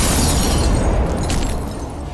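A loud, roaring blast fills the clip with dense rumbling noise that slowly fades, as a large explosion at Beirut port is heard nearby.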